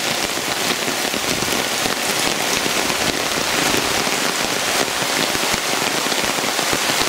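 Steady, dense rain falls on a woven palm-leaf shelter, a loud continuous patter close by that stays even throughout, with no voices.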